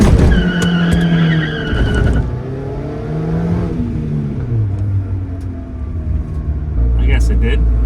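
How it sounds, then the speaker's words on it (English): A Honda Civic of roughly 90 horsepower does a burnout: the engine revs hard and the tires squeal and skid loudly, with people talking over the noise. "Let's see if she'll do a burnout."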